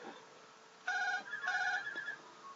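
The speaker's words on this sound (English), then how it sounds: "There's my phone ringing." A phone rings indoors with two bright electronic trills in quick succession, clear and fairly close, over quiet room tone with no talking.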